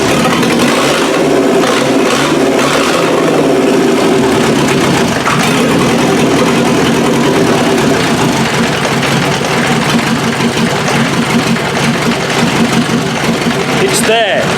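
A naturally aspirated 2.5 diesel engine mounted on a pallet, with its timing slightly off and smoking heavily, cranks and catches, then idles loudly and unevenly up close while someone talks over it.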